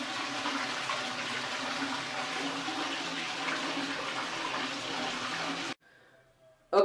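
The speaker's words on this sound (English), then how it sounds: "When we pull this, the flush happens." A toilet flushes as a copper wire on a homemade automatic flush mechanism is pulled, a loud steady rush of water for several seconds that cuts off abruptly into near silence.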